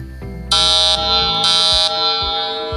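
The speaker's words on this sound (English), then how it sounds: "when you receive an alarm as a guardian, you receive a loud alarm sound" A loud, piercing electronic alarm tone from a HaloGuard SOS safety app sounds in two long pulses, close and harsh, continuing without any voices.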